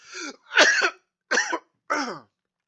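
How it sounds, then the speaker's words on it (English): A man coughs in four separate bursts, one long harsh hack followed by three shorter ones, close and clear with pauses between and no talking. "I don't know why I'm coughing all of a sudden."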